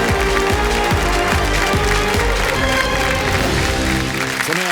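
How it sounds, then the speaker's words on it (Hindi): Studio audience on a TV quiz show applauding, a steady dense wash of clapping hands sustained over several seconds, loud and full with music layered underneath, fading abruptly at the end. "तालियों के साथ आपका अभिनंदन करते हैं"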